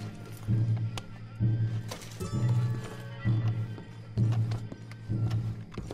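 Horses gallop in Red Dead Redemption 2, hoofbeats pounding in rhythmic bursts about once a second, close and fairly loud over an outdoor game ambience.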